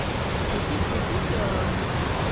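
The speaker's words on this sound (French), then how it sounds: "Petite cascade là sur le torrent." A small waterfall on a mountain torrent in the Pyrenees above Cauterets gives a steady, loud, broadband rush of falling water, close and unbroken throughout.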